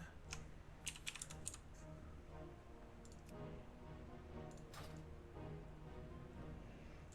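Typing on a computer keyboard, quick clusters of sharp clicks in irregular bursts with pauses between, faint and close over a low steady background hum.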